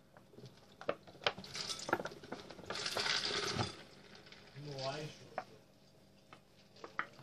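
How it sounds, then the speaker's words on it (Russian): Milk pours from a carton into a bowl of chocolate cereal balls with soft splashing and dripping. Light clicks and rustles sit around the pour, and the level stays fairly quiet and close. "Наливаем молоко."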